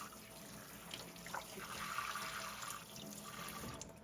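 Corned beef, cut from the point or fatty end of the brisket, rinsed under a running kitchen tap; a steady, fairly quiet stream of water splashes continuously over the meat for a few seconds, with no talking.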